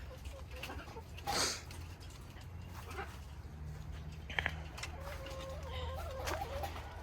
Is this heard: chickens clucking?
yes